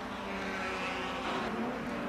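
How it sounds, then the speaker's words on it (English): Race cars of the 1957 German Grand Prix on the Nordschleife, including a Vanwall and a Ferrari, roar past in a loud, steady engine blare that swells slightly toward the end. "Oh, and Moss's Vanwall"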